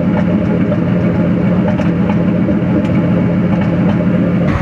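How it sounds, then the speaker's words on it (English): A Ford Crown Victoria's 4.6 V8 idles steadily and loud up close, a continuous low rumble with faint, irregular small pops in the exhaust. "there's always a little tiny pop in the exhaust at idle. All right, you can hear the popping right here."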